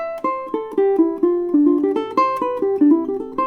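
A custom Grimes ukulele played with a quick melodic line of plucked notes, about eight bright attacks in steady rhythm, each ringing with a clear, forward tone, close and loud.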